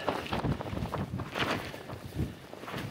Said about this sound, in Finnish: Täällä on taas semmoinen kova tuuli